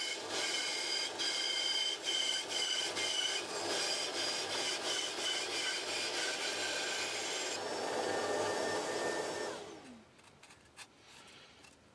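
Wood being sanded for reindeer Christmas decorations, a continuous rough rasping hiss that runs steadily for about ten seconds, then winds down into quiet with a few faint knocks.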